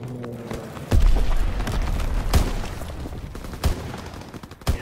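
Gunfire in Call of Duty WW2, a World War II shooter game, with several loud gunshot bursts and booming blasts at irregular intervals over a constant background rumble of battle.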